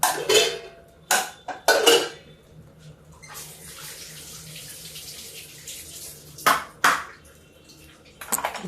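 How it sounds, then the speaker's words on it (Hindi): A metal kadhai clanks as it is picked up and set down on a stove, several sharp close knocks and scrapes separated by quieter stretches of low kitchen noise. "ये देखिए ये मेरी कढ़ाई, और ये उठा के इधर रख देते हैं।"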